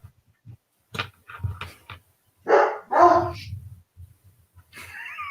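Dogs bark outside on a street at night, giving a few distant yips and woofs spaced out irregularly, followed by a louder burst of barking and whining, with quiet background between.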